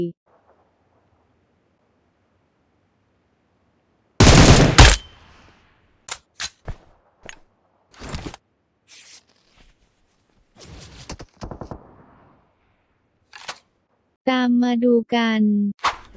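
Video game gunfire in PUBG Mobile: a sudden loud burst of shots, then scattered sharp clicks and short bangs, and a tonal electronic burst near the end.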